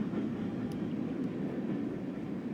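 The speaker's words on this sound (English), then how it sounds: "that's a long train. And a loud one to start the show." A long train rolls past, a loud, steady broadband rumble that holds even and continuous from start to end with no gaps, close by and with no voices over it.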